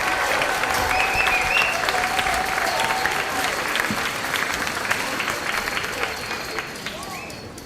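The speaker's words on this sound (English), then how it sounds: "Please give a round of applause to these fine young musicians for representing the LIS Orchestra at the regional level." An audience at a school spring instrumental concert applauds young orchestra musicians, a dense steady roar of clapping filling the room and tapering slightly toward the end, with faint voices mixed in.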